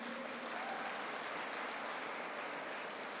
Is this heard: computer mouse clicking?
no